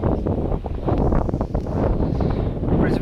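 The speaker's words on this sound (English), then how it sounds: "But it's very windy." Heavy wind buffets the microphone on a hilltop forest drive at Cwmcarn, South Wales, with loud, continuous low rumbling gusts and no voices.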